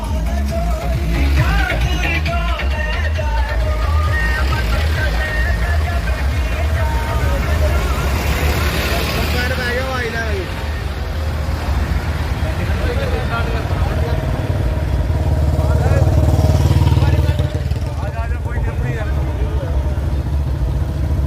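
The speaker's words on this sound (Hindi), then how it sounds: "कारों और ट्रैक्टरों का कितना लंबा काफिला आपको दिखाई दे रहा है।" A long rural convoy of tractors and cars rolls through a village in a loud, continuous engine rumble, with shouting crowd voices and talk layered over it the whole way.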